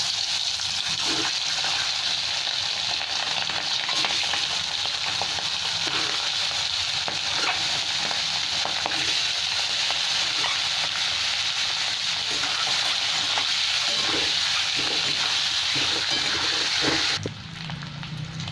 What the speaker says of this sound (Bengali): ডিমটা সেদ্ধ হয়ে গেছে আর ছাড়িয়েও নিয়েছি, নুন হলুদ মাখিয়ে নিয়েছি। এবার আমি ভেজে নিচ্ছি।